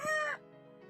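A single harsh rooster call rings out briefly at moderate distance, then fades into quiet background.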